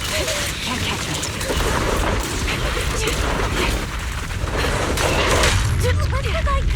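Cover fire in the video game Zenless Zone Zero, a steady loud wash of rapid gunshots and booming impacts that runs unbroken through the moment, with character voices speaking over the combat.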